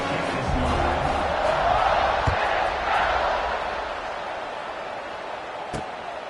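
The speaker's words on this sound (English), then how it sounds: "this crowd is buzzing after that last score" Football stadium crowd buzzing after a score in an Ole Miss versus Georgia State game: a loud, steady roar of many voices fills the air throughout, easing slightly toward the end, with a few faint thuds underneath.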